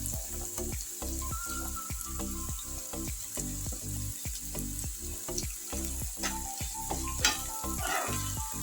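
Green chillies and onion frying in a pan give a steady, loud sizzle with frequent rhythmic spatula scrapes and stirring clatter throughout, with no voices.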